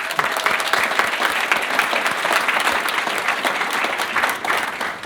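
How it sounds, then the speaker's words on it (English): An audience at a Chew The Fat talk claps for Penguin Books, a full and even wave of applause that stays loud and continuous for about five seconds. "a huge round of applause for Penguin"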